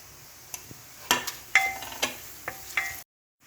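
Whole spices crackle and sizzle in hot ghee as a spoon stirs them, with sharp scattered pops and scrapes over a low frying hiss before a sudden cutoff into silence.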